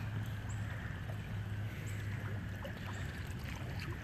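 Rainwater from over four inches of heavy rain runs like a river past a house and down the street, a steady, continuous rushing flow with no one speaking.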